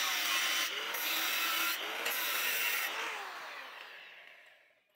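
A bicycle frame tube being cut by hand, with a steady, close rasping stroke that runs continuously and fades toward the end.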